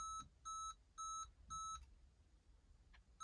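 A diesel four-wheeler's sensor sounds four evenly spaced electronic beeps at startup, close and clear, followed by a couple of much fainter short blips over a quiet background.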